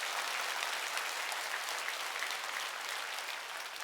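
A church congregation applauds during a Wednesday worship service. The clapping is dense, even and continuous, moderately faint, and lasts about four seconds with no voices.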